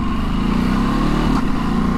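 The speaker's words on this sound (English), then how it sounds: "I'm doing 70, and you can probably hear it on the helmet, there's a lot of wind noise" Loud wind rushes past a helmet at about 70 mph on a Ducati DesertX motorcycle, with the wind coming off its screen. Engine drone sits under a continuous, dense roar close to the rider.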